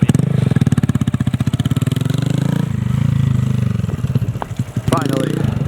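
A Honda Grom motorcycle fitted with a new aftermarket exhaust revs loudly up close, pulsing in rapid rhythmic bursts before settling to a rougher idle. Short blips follow near the end.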